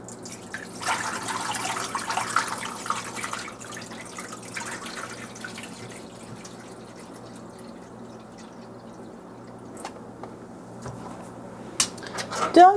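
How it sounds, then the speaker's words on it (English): Rinse water poured out of a container of rice being washed for Persian saffron rice, a wet splashing and dripping flow in a kitchen sink, loudest early then trickling away, with a clunk near the end. "Now pour out the water."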